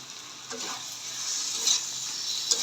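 Spinach fry cooking in a pan with potato, a soft steady sizzle and gentle crackle close by, with a few light clinks of stirring and no voices.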